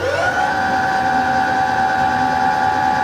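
A Falcon Premium 1800W 72V electric quad bike running, a loud steady electric motor whine that rises in pitch at the start and then holds an even tone close by, with no voices.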